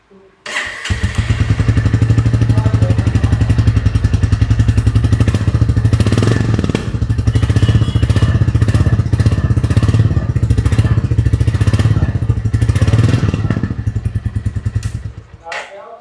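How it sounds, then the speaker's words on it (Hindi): A Royal Enfield Bullet Battalion 350 motorcycle idling nearby in a steady, loud single-cylinder thump that runs for about fifteen seconds, then cuts off. "तो मैं आपको इसकी बुलेट बटालियन 350 की साउंड चेक करवाता हूँ"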